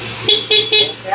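A Piaa horn fitted to a Yamaha Aerox v3 scooter, wired alongside the stock horn, sounds three short loud honks in quick succession, close by.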